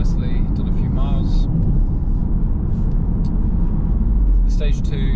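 A manual Volkswagen Golf R with a stage 2 tune making about 400 bhp drives along with a loud, steady roar of engine and road noise throughout, and short higher whines rise briefly at the start and end.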